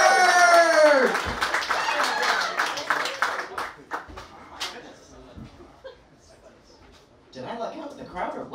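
An audience claps and cheers as a comedian is brought on stage, with a loud burst of applause and whoops over an announcer's voice that fades into scattered clapping and a brief swell at the end.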